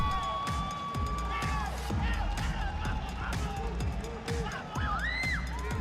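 An esports arena crowd at the CRL 2025 Championship roars and cheers with whoops and whistles in a sustained, dense wash of noise, while a commentator talks over it.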